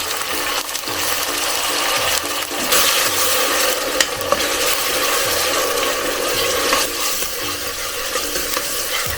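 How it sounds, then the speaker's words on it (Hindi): Ginger, garlic and turmeric paste frying with onions in a pan for a liver masala, a steady close sizzle with repeated scraping stirs running throughout. "अदरक लहसुन का मसाला भुन गया है अच्छी तरह से।"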